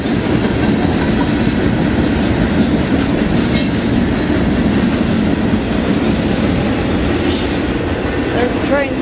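A train rolls through a station, loud and close, with a dense rumble, rhythmic clickety-clack over the rails and a few brief squeals of wheels.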